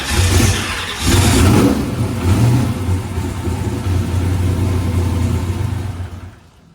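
A boosted big-block Chevy V8 with Holley EFI cranks and fires, then roars through several loud, close revs before settling into a rough, steady rumble that cuts off at the end, with no talking.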